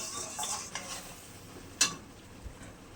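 Fried lentil dumplings and chopped tomato are sautéed in a pan, with quiet stirring scrapes over a faint sizzle and one sharp utensil clink partway through.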